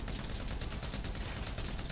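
Rapid automatic gunfire in the video game GTA 5, a dense continuous rattle of shots lasting about two seconds, steady and fairly loud with no voices.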